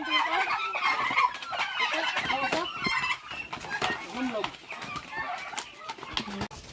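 Busy poultry noise with turkey clucks and warbling calls, some gobble-like bursts among them, while people talk nearby throughout at feeding time.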